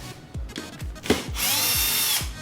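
A power drill backs screws out of the arms of a TV stand, with several short whirring bursts, clicks and trigger pulses, then a sustained loud high whine near the end.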